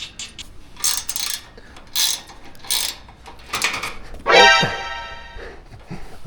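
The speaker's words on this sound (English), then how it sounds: "Loosen these front nuts. They do appear to be 14 millimeters." A ratchet wrench loosens 14 mm nuts on a metal motorcycle shipping crate, with several bursts of quick ratcheting clicks close by, separated by short pauses, and a louder metallic rattle near the end.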